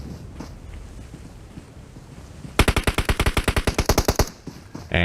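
Gunfire in a shooting video game during a celebrity competition: a loud, rapid automatic burst of about fifteen evenly spaced shots cuts through a soft, windy background, then a few scattered shots follow.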